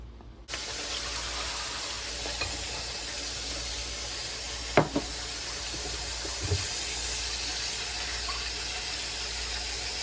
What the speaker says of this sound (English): I'm gonna rinse it in this colander